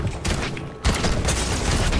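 A drum shotgun fires in the Fortnite video game, giving dense, loud bursts of overlapping blasts and mechanical clatter. One sharp shot stands out near the middle of the short stretch.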